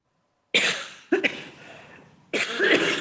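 A single person coughs several times in a remote session of a policy debate: a harsh burst after silence, a quick second cough, a raspy tail, then another loud cough, each close and clear with no talking over them.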